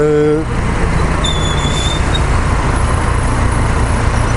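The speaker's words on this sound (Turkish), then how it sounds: "bütün arabaların, şu karşıdan geçen arabaların falan bütün sesini" Steady road traffic rumbles nearby, recorded from a motorcycle, a continuous wash of passing cars with a brief faint horn-like tone partway through; a voice is heard at the very start.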